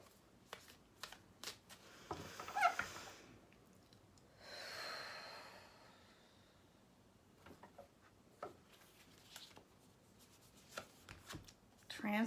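Tarot cards are shuffled and drawn by hand, with soft riffling and sliding swishes, scattered light taps and a brief breathy exhale, close and quiet with no talking.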